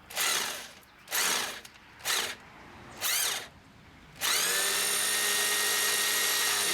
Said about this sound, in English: I don't know why my drill's on hammer.